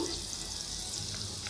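Garlic sizzles in a pot of ginger for chicken kabsa, a short, even, steady frying hiss with no distinct stirring strokes.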